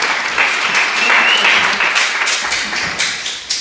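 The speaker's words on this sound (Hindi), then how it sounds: "बहुत बहुत भरपूर तालियों में" Loud, dense applause at a mushaira poetry gathering and book inauguration, many hands clapping steadily and close, swelling and fading slightly without speech.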